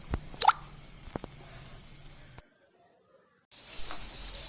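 Kuboos flatbread dough dropped onto a very hot tawa gives a soft plop and a few drippy taps, then a brief silence before a steady, fairly quiet sizzling hiss.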